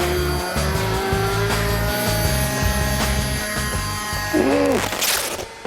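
A remote-controlled model airplane engine at full throttle gives a loud, steady buzzing whine that holds throughout, with a brief pitch sweep near the end.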